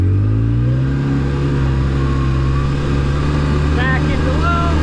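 Engine of a Polaris RZR 800 S side-by-side idling and revving between gear shifts, a steady mid-pitched drone that rises and falls slightly, with brief higher whines near the end.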